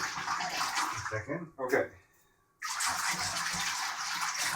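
Soapy water in a tub is swished around to wash latex, giving a steady, close watery sloshing that pauses briefly while a person speaks, then returns at full strength.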